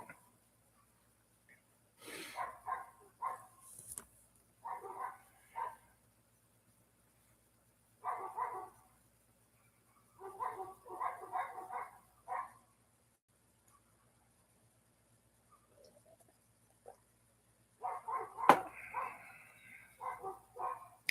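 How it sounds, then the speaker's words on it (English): The neighbor's dogs bark in scattered short clusters, faint and distant against a quiet background, with long silent gaps between the bouts. "Sounds like our neighbor's dogs are going off."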